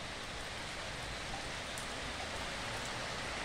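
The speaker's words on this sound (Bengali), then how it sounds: "প্রচণ্ড বৃষ্টি হচ্ছে, প্রচণ্ড বৃষ্টি" Heavy rain falls steadily outdoors, a continuous even hiss with no pauses and no voices, moderately faint throughout.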